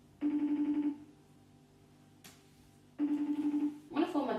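UK phone ringback tone: two long double-burr ring cycles repeating with a silent gap between them, followed by a brief voice starting to answer.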